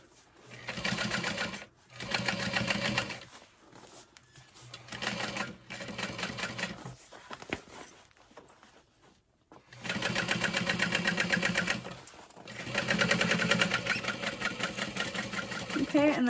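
A sewing machine stitching a seam on a Convention Raider bag, running loud and close in several sustained bursts separated by short pauses, with a quieter gap partway through.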